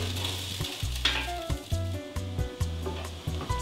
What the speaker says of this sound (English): Just stir a few minutes to help that sugar dissolve